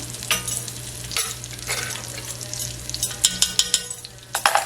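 Spices frying in a little coconut oil for a pumpkin coconut curry soup, a loud close sizzle with scraping stirring strokes and a low steady hum beneath, no voices.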